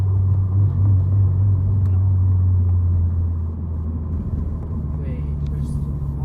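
A Subaru BRZ's engine drones steadily in third gear, with a loud low rumble holding through the drive and easing slightly partway through, plus faint road noise.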